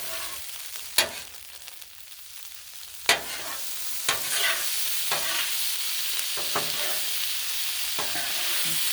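Pasta and onion fry on a Blackstone griddle with a steady close sizzle, broken by several sharp metallic spatula scrapes and clanks as the food is stirred and turned.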